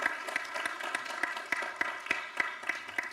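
An audience claps together at a weekly bhajan session in Milton Keynes, a short burst of steady, fairly soft applause with individual hand claps standing out in a loose rhythm.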